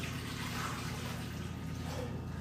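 Water running as it is poured into a blender for a smoothie, a steady soft rushing and splashing that stays even from start to end.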